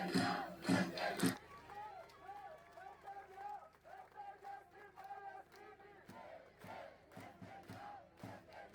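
A pro-Palestine protest crowd in Cyprus shouts and chants in loud rhythmic bursts for about a second, then a single amplified voice carries on over a low crowd murmur.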